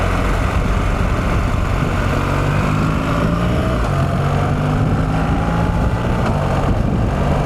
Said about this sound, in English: when it's idling like this, it has a little hiccup every 3 or 4 seconds